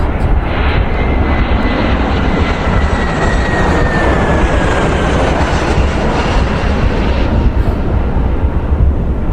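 A Boeing 737 taxiing in a flight simulator game gives off a loud, steady jet engine whine and rumble that holds at an even level throughout, close and unbroken, with no talking.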